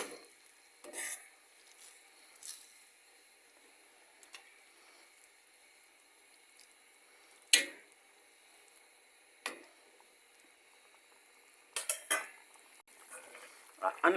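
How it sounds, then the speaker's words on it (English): A utensil stirs and scrapes seasoned salt mackerel in a pot, with sparse, sharp metallic clinks and scrapes spread out over a quiet background and a faint sizzle beneath. "Now stir it up."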